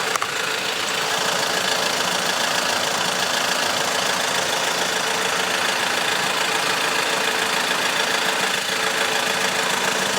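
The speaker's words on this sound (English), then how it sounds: "That's why it's very important to keep the engine running." An Audi car engine with a CVT automatic transmission idles steadily during a transmission oil change, a continuous close mid-pitched rumble with a faint knocking texture and no talk.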